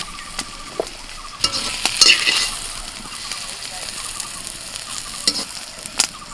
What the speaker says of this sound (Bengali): এই সবজিগুলো দু তিন মিনিটের মধ্যে ভেজে নিয়ে এবার সিম আর ডাঁটাটা দিয়ে দিচ্ছি